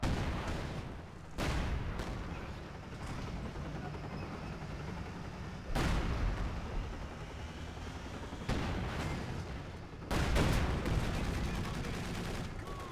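An artillery barrage pounds the field in Company of Heroes 2. Loud shell impacts strike at irregular intervals over a constant rumbling din, with a sharp, heavy blast near the end.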